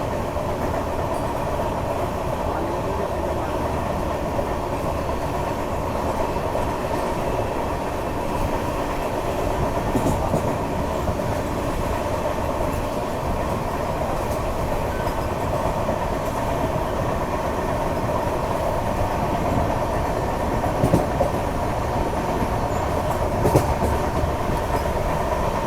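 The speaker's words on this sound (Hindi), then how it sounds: "अभी फाइनली सामने से एक क्रॉसिंग आ रही है अपनी वंदे भारत एक्सप्रेस की" A Vande Bharat Express running between Nagpur and Pune passes on the opposite track, a long steady rumble with faint rhythmic clatter heard from inside another train.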